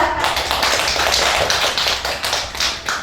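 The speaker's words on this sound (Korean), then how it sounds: "모두 박수로 맞이해 주세요." An audience claps steadily at a flower tea master course graduation ceremony held by a Daegu disability rights association, producing a dense, even patter of many hands close by without pause.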